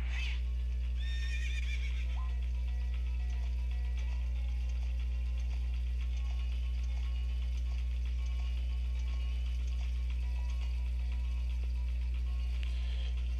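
A horse in the video game Ocarina of Time gives a sharp whinny near the start and another at the end, over a steady low game hum and faint hoof clip-clops.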